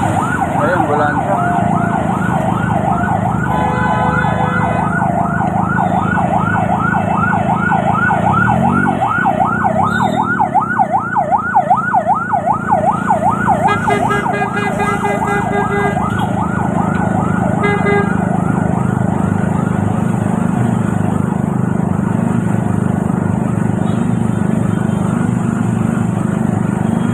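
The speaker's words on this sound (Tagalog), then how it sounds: "Ayun, ambulansya." A wailing ambulance siren sweeps up and down in rapid repeated cycles, loud and close, over a steady engine drone, with a few honks and brief voices joining partway through.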